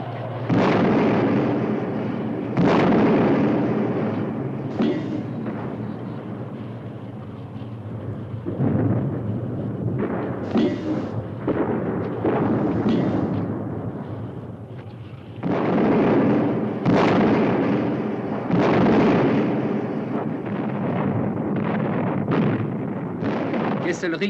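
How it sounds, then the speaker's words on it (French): Heavy artillery bombardment from a huge railway gun shelling a WWII bridgehead in Italy in 1943, a series of loud booming blasts with rumbling tails, some spaced apart and some overlapping, under a narrator's voice. "Un énorme canon sur voie ferrée entreprend le pilonnage de la tête de pont."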